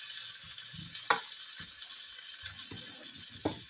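Fried fish stirred in a pan for a simple fish sotanghon soup, a steady broadband sizzle with a few sharp scraping clinks from the utensil, close and fairly quiet, no talk.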